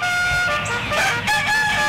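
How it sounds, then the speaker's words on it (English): Rooster crowing close and loud, one full harmonic cock-a-doodle-doo call filling the short stretch, with no talking. "Good morning, Rooster. How you doing there this morning? You sound pretty good."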